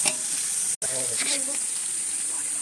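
Chicken seasoned with garam masala sizzles and fries in a pan over a wood-fired stove, a steady close hiss with faint stirring and a brief gap in the sound; a voice is faintly heard in the background.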